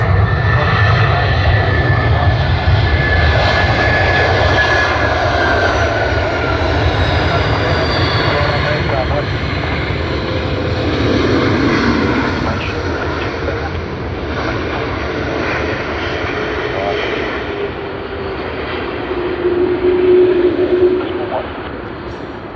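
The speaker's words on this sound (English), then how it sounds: "And another A330 coming in off Qantas." A Qantas Airbus A330 jet comes in to land at Sydney Airport, giving a loud, continuous engine roar and rumble that swells and fades slightly, with people talking over it.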